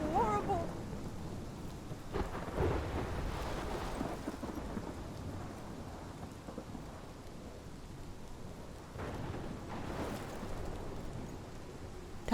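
A storm in the video game Life is Strange: steady rain with rolling thunder that swells at the start and again near the end, heavy and continuous throughout.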